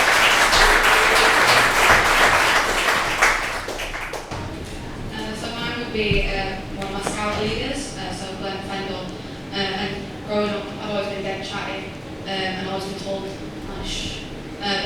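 An audience at a motivational talk breaks into a bright burst of applause for a young girl for about four seconds, then the clapping drops away and a voice speaks.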